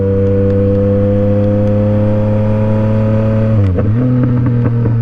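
A Yamaha MT motorcycle engine, MT-07 or MT-09, holds a steady high rev with a droning whine, then drops sharply near the end and picks back up, loud and close with no talking.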